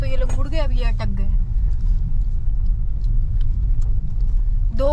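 Cars sit stuck in a heavy traffic jam, their low engine rumble steady throughout, while a person talks over it at the start and again at the very end.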